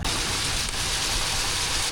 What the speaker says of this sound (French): Bon, il pleut quand même moins fort.